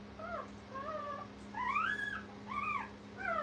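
Young puppies at a dog training kennel whimper and fuss in a string of rising and falling high-pitched whines, several overlapping cries close by over a steady low hum.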